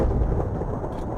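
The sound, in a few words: lightning striking copper golem, from Minecraft video game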